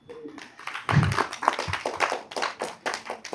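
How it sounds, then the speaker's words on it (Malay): A small group at a gathering claps in a brief, uneven burst of separate hand claps heard fairly close, without much talk. "Berikan suara tepuk tangan"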